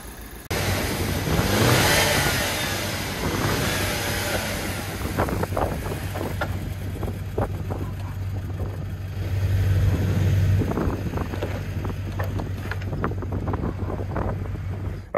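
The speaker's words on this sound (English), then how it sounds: "it's time to take this 2008 Audi for a drive and see how it does" A 2008 salvage-auction Audi with an engine misfire and a lit check-engine light drives and revs under heavy wind buffeting, its uneven engine drone rising and falling with no talking.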